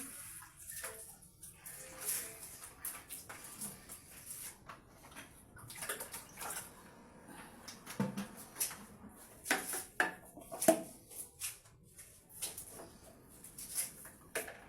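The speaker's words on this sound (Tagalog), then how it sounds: "Mahina yung tubig mo, Bong, ah." Water runs and splashes during household cleaning, faint and intermittent, with scattered clatters and knocks of objects being handled across the whole stretch.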